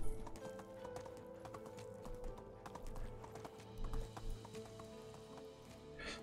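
Horse hooves clip-clop steadily while riding through a forest in the medieval survival game Medieval Dynasty, a regular rhythmic clatter of hooves at moderate volume with faint ambient game sounds around it.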